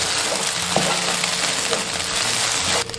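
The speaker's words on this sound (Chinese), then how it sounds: "热锅倒冷油，然后倒鸡蛋液，然后用铲子快速划散" Beaten egg hits hot oil in a wok with a loud, continuous sizzle, punctuated by scraping taps of a spatula stirring it quickly, with no talking.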